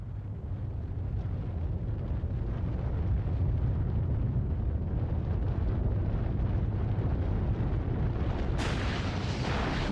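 Underground atomic bomb test detonated 180 metres below the ground, a continuous deep roaring rumble sustained at full strength throughout, with a brighter hissing burst near the end.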